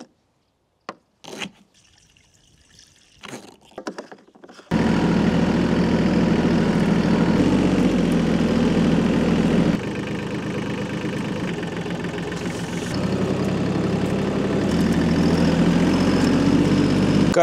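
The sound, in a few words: tractor engine idling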